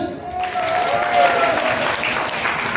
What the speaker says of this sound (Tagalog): Wala pang palakpak dyan!